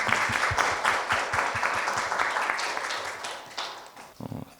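Audience applause at a volunteer social-change forum, a dense, steady round of clapping that fills the room and tapers off near the end.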